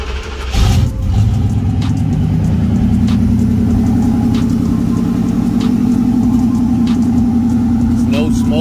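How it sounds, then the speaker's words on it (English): A truck engine with a hole in the muffler starts up and settles into a loud, rough, throaty idle, rumbling steadily and raspy as if the exhaust is leaking. "It's fired up. Got a hole in the muffler."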